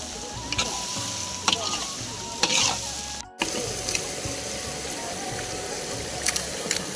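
Chicken liver paste poured into hot gravy sizzles and fries steadily, with occasional stirring knocks and a brief dropout midway; a voice talks over it.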